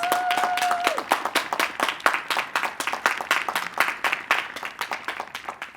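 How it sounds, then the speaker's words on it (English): Audience applause at a 2021 intercultural graduation ceremony at Moravian College: dense, steady clapping from a crowd fills the room at a constant level, with a brief tone sounding at the start. "Round of applause."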